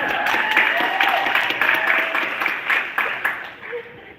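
Audience applause with some cheering at a housing and homelessness advocacy day rally, a dense, steady burst of clapping that swells and then tapers off, with voices calling out over it.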